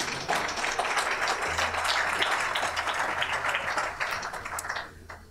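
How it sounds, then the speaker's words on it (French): Seminar audience in a conference room applauding as a speaker takes the floor, steady clapping from many hands that thins and fades out at the end. "Voilà, on peut l'applaudir."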